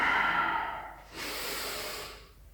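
Slow, deliberate yoga breathing heard up close: one long exhale with a nasal tone, a brief pause, then a strong, airy breath of about a second that fades away.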